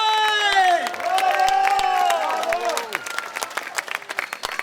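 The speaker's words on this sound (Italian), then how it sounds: "Se mi applaudite il comune mi paga il doppio, ragazzi!" Audience at an outdoor concert by the Orchestra Enrico Marchiante in Jesolo bursts into loud, sustained applause and cheering, with whistles and shouts rising over the clapping as a voice addresses the crowd.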